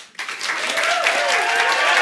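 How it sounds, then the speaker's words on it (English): An audience at a startup event breaks into lively, energetic applause, practising a happy-sounding clap, starting abruptly after a brief pause and staying dense and loud through the rest. "How does a happy applaud sound?"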